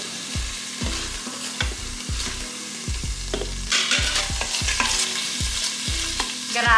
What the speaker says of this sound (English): Once your meat is browned on, all the sides, I want you to remove it into a little plate.